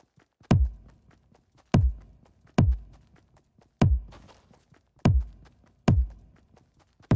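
A deep electronic kick drum from Fortnite Music Blocks thumps six times at an even, moderate pace, each hit booming and decaying before the next.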